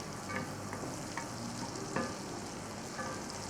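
Butter sizzling and crackling in a hot pan, a steady frying hiss with scattered small pops, close up and with no one talking.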